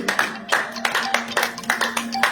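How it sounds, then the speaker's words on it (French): A church congregation clapping together in a steady rhythmic beat, loud and close, with a sustained tone and faint voices underneath. "Par ton nom, on peut acclamer la parole du Seigneur."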